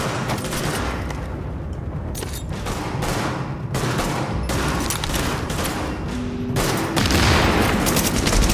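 A grenade going off amid a firefight in The Division, a heavy boom landing among loud, overlapping bursts of rapid gunfire that rattle continuously throughout, with no speech over the din.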